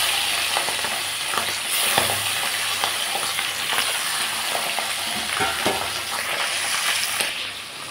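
Fish pieces frying in hot oil in a pan, a loud, continuous crackling sizzle with scattered pops and occasional utensil clinks close by, no talking.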